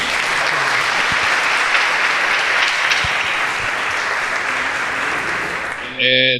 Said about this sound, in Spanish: por favor, un aplauso a Santiago Loza